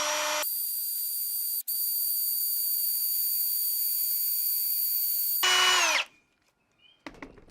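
A power drill boring into catlinite stone whines at a steady high pitch for several seconds, dips briefly, then revs up and stops, followed by faint clinks.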